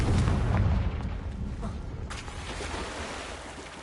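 A Confringo blasting curse in Hogwarts Legacy goes off as a heavy, booming explosion that hits loud at the start and rolls into a long, rumbling decay, with sharp crackles scattered through it.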